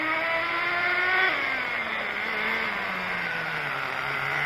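The nitro engine of a Redcat Caldera RC car runs alone with a high, buzzing whine that drops in pitch partway through, as if easing off from a rev.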